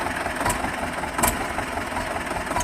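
A T-25 tractor engine idles roughly at low revs, a close, steady diesel chug with uneven knocks and a couple of sharp clicks, no voices.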